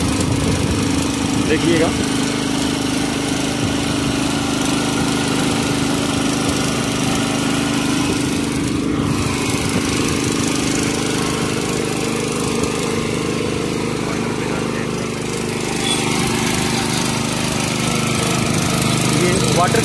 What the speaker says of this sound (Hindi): तो अब मैं इसको स्टार्ट करने जा रहा हूँ, ड्रिल करना स्टार्ट करने जा रहे हैं।